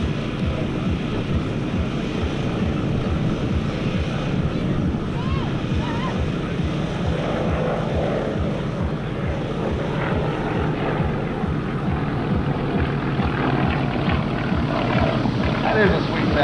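A Nanchang CJ-6A airplane with a 285 hp nine-cylinder radial engine drones steadily at an airshow, a continuous rough propeller rumble heard from a distance under faint crowd and wind noise.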